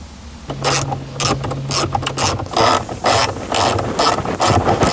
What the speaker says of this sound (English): Take your 10mm socket wrench and remove them.